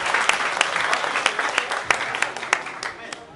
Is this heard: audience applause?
yes